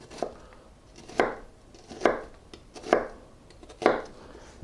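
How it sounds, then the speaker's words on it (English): A knife dices an onion on a cutting board in five distinct, evenly spaced chops, each a crisp close thud with a short crunch, and nobody speaks. "all you got to do is just make your cross cuts and you have perfect dice"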